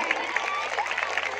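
A crowd claps steadily at a gathering, a moderately loud spread of hand claps with a murmur of voices beneath, brief and continuous.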